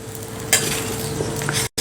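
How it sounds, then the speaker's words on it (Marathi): Puran poli flatbread roasts with oil on a hot griddle over medium heat, a close steady sizzle with a brief scraping stir near the start, cutting off abruptly at the end. "मिडियम गॅसवरती छान खरपूस पोळी भाजून घ्यायची आहेत"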